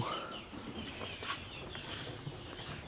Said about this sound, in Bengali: খামারে মুরগি রয়েছে এখানে এই যে মুরগি আছে